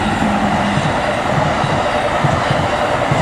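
Train rolling past on tracks set low in a cutting beside a house, a steady loud rumble of wheels and cars that holds throughout with rhythmic clatter from the railroad cars and no voices.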